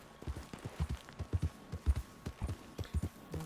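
A horse's hooves clip-clop steadily over the ground in Red Dead Redemption 2, a quick irregular run of sharp, fairly close thuds at moderate loudness with faint ambient hiss underneath.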